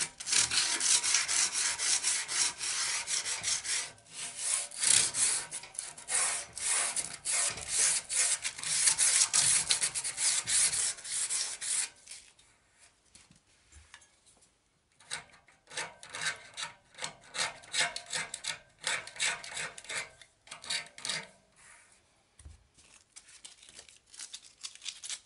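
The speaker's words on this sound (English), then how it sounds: "now you can drop back to a grade 80, and then these edges, just give them a quick whiz over" Steady rasping strokes of grade 80 sandpaper rubbed over the edges of a metal radiator with peeling paint, busy and dense at first, then sparser and quieter with brief pauses.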